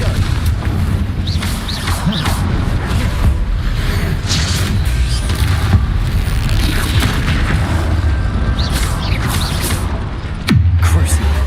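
Confringo spell blasts in Hogwarts Legacy, a steady barrage of booming magical explosions with dense combat noise, ending in one sharp loud hit.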